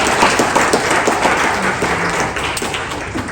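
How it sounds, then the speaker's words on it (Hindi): An audience claps during a speech by Delhi Chief Minister Rekha Gupta, a thick, continuous patter of many hands that stays fairly loud and steady, easing slightly toward the end. "चाहे तो ताली बजा सकते हैं।"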